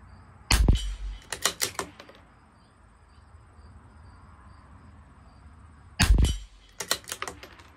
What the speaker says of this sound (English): shoot five more at the bottom and I'll do a 10 shot group on the last target